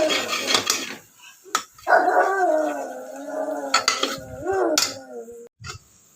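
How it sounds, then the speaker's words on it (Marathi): A small pet dog indoors barks and lets out drawn, howling yelps in several bursts, moderately close, while a kitchen spoon clinks now and then. "तर तो भुंकतोय, तर त्याचा आवाज याच्यामध्ये येतोय व्हिडिओमध्ये."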